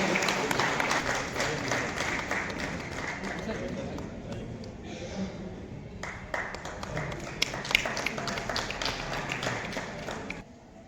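Audience applause greeting the special and chief guests at a public programme in Jamshedpur, a sustained crowd clapping that carries on for most of the clip, with voices and some thumps underneath.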